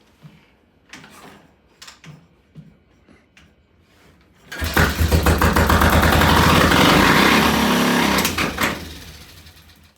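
A T20M engine fires up on its first start and revs hard: a few faint knocks and clicks, then a loud, steady throttled roar that lasts several seconds before dropping away.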